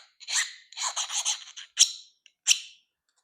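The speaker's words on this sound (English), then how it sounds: "I just have a regular chainsaw file" A chainsaw file rasps across the steel of a farrier rasp being made into a knife, several short strokes, a bright scraping squeak with brief silences between passes, heard up close and alone.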